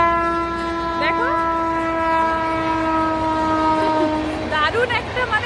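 A train passes in the distance near Mukutmanipur in Bankura, sounding a long, steady horn that holds for about four seconds over outdoor ambience, with brief chirping calls near the start and end.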